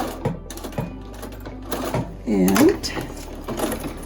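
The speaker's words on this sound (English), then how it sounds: "I turn it, and then I'll sew it to the end." A sewing machine runs in short bursts while a cloth face mask is sewn, its motor whirring up briefly before stopping, with someone speaking over it.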